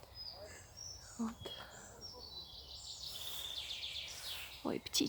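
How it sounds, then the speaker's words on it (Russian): Birds chirp and warble outdoors beside a town stadium in Klintsy, with faint high calls drifting over soft street ambience and a few nearby rustles. "Ой, птички разливаются, как хорошо."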